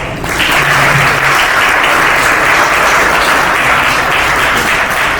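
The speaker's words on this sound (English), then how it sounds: "Another round of applause for our" Loud, sustained applause from a large luncheon crowd, a dense wash of clapping that holds steady throughout.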